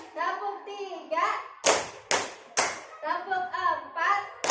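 A group of children in a school classroom clap a counted rhythm, with three sharp, loud group claps standing out between stretches of children's chanting voices.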